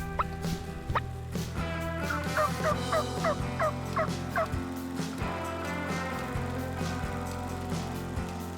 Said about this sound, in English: We heard that bird gobble a few more times